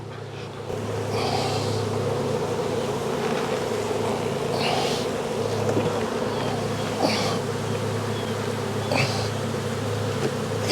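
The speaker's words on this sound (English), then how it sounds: "there's so many bees all over it." A dense swarm of honey bees buzzes steadily around a hive box during an April hive inspection, a continuous close droning hum with individual bees flying past the mic now and then.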